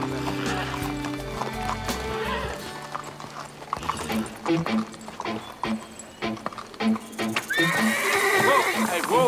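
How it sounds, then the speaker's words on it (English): Horses neigh and their hooves clip-clop on the way to a drink, with whinnies rising near the end over a busy backdrop of music and voices. "How much can those horses drink?"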